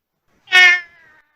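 A single short, clear meow rises and trails off on a comedy stage, most likely a performer's voice imitating a cat.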